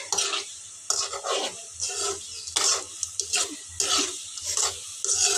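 Okra (bhindi) frying and being stirred in a pan, with bursts of scraping and sizzle coming in irregular waves over a steady low hiss, close and moderately loud.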